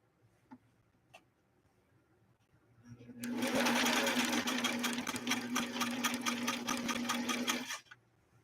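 After a few faint clicks, a Singer Stylist sewing machine runs a straight stitch, a steady loud mechanical whir with a rapid ticking rhythm lasting about five seconds before stopping abruptly.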